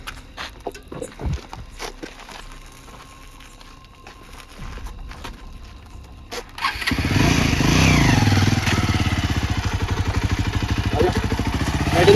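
A motorbike sputters to life partway through and then holds a loud, steady, throbbing idle close by as the rider turns it around, after a few quiet knocks and faint talk beforehand.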